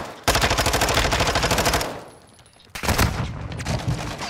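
Rapid bursts of automatic gunfire in a video game, loud and close, firing in a fast sustained rattle, stopping briefly, then resuming with another heavy volley.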